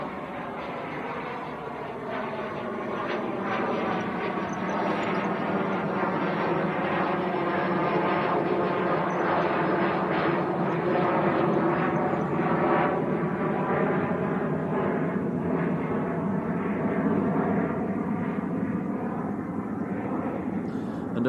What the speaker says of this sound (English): Oh, private jet just getting airborne. It's the little citation that came in earlier.